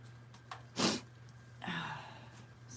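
A single sharp sneeze from someone with a cold, close and fairly loud, followed by a short wet sniffle a moment later, in a quiet indoor room with a steady low hum.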